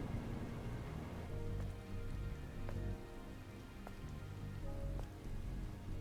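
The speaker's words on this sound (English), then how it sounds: "This must be Earth's rain." Steady rain falling in a ruined city within a video game, a dense continuous patter of drops with occasional faint tonal game sounds underneath.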